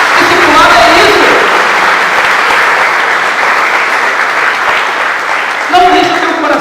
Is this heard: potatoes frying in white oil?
no